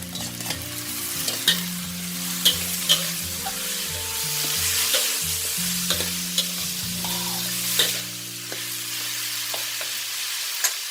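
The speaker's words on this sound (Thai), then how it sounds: "เมื่อความหอมออกแล้วนะ ให้ใส่ข้าวลงไปผัดเลยค่ะ" Rice is stir-fried with ginger and garlic in a pan, with a steady sizzle and repeated spatula scrapes and knocks against the pan, while gentle background music plays beneath.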